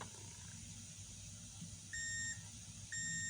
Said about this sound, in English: Yeah, this cap is beeping.